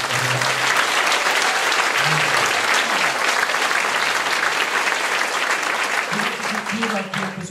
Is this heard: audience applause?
yes